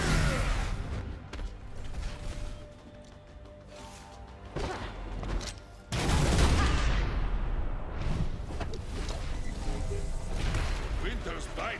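Concussive Blow attack effect in the turn-based game Ruined King: a sequence of heavy thuds and crashing impacts, with a sharp, loud hit in the middle followed by a rumbling, clattering tail over game music.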